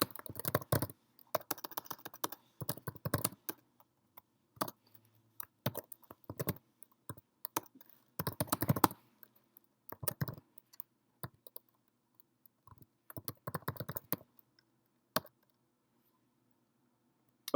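Bursts of clicky typing on a computer keyboard during a software demo, fast irregular keystrokes in clusters separated by pauses, close and fairly quiet with no talking.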